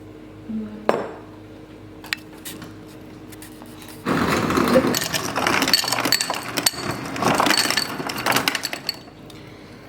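Ice cubes dropped into a glass for an iced latte: one sharp clink, a quiet stretch, then a loud, busy clatter of cubes rattling and knocking against the glass for the rest of the clip, with no talking.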